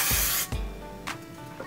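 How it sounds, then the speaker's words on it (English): Hairspray is sprayed onto hair while styling pageant hair: a loud, close hiss of aerosol bursts, one long spray followed by shorter puffs, with no talk. "Okay, so I'm gonna spray that."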